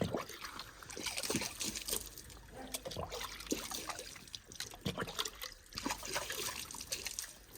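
Water trickles and splashes unevenly from a tap, with irregular drips and small spatters, fairly quiet and close.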